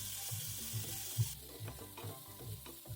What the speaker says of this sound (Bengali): জলটা দিয়ে দেওয়ার পর আমি নেড়ে চেড়ে আবারও কিছুক্ষণ কষিয়ে নেব, যতক্ষণ না এই জলটা শুকিয়ে আসছে।